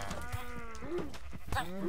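A cow moos in the Minecraft survival game, several drawn-out game moos close and clear, one after another with short gaps and rising, bending calls near the end.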